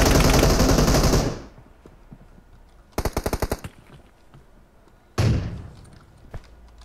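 Uzi submachine gun fire in PUBG Mobile, a loud sustained burst, then a short rapid volley of about six shots, and another burst, separated by quiet gaps.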